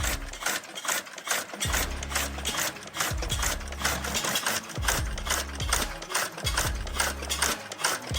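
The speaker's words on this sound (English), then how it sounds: "the Blackstone hot bulb engine is a humble yet powerful relic" A 1912 Blackstone single-cylinder hot bulb engine from Stamford, Lincolnshire, runs close by with a rapid, regular mechanical clatter and a rhythmic low thumping beat that repeats about once a second.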